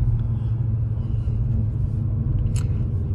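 Audi RS3 8Y with its 401 hp five-cylinder engine rumbles steadily from inside the cabin while driving, a deep continuous low drone without speech, with a brief higher clatter near the end.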